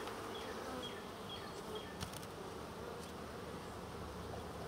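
A honeybee swarm in a tree gives off a dense, continuous buzz of many bees at once. It is steady and fairly faint, with a few individual bees passing closer.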